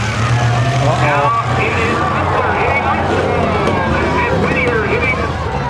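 Demolition derby trucks grinding through mud and dirt at a county fair arena, engines rumbling and revving continuously while a crowd murmurs and people talk over the noise.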